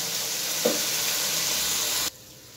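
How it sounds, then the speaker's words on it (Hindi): Moringa (sohanjna) and chicken sizzle and fry steadily in a pan, a loud close hiss with one brief stir or clink partway through before the sizzling cuts off abruptly, with no talking. "ये जो स्वांजना हमने बीच में मिक्स किया है इसको हम कम से कम 3-4 मिनट इसकी भुनाई करेंगे"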